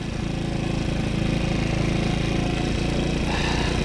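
A small scooter ridden enduro-style up a forest hill runs with a loud, constant buzzing engine drone and an unbroken rattly throb.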